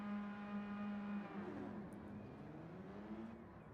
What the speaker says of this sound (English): Somebody's revving him up.